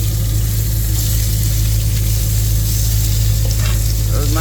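Burgers frying in a pan on a stove inside a van give a loud, constant close sizzle with a steady low hum beneath, and a voice briefly sounds near the end.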